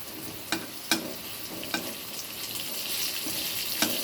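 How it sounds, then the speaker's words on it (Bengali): Dried red chili crackles as it tempers in a little hot oil over pumpkin and fenugreek greens, a steady close sizzle broken by several sharp pops and spits, with no talk. "বেশি তেল আমি খাবো না, এই শুকনো লঙ্কা ফোড়ন দিলাম।"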